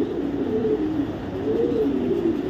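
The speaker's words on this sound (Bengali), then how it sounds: "দেখাবো একটা মাদি কবুতর, আমার খুব ফেভারিট একটা মাদি কবুতর" A favourite light-coloured female pigeon, ringed in 2021, gives a couple of soft, rolling coos close by over a faint background hum, with no voices.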